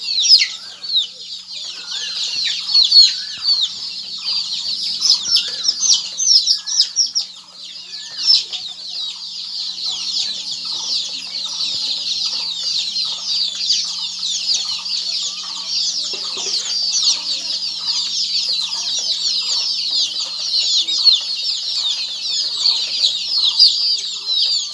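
Local chickens and month-old chicks cheep and cluck continuously at close range, a dense high-pitched chorus of peeps with softer clucks underneath, lasting the whole stretch.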